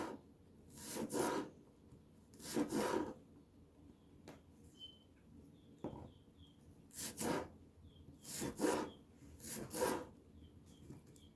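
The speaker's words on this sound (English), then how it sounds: "I just cut them like in little pieces like this. So first they're thicker like that, and then I'll just chop them like this." A knife cuts hot peppers into small pieces for pico de gallo. It makes soft, scraping strokes on a wooden board in short bursts of two or three, quiet and close, with brief pauses between them.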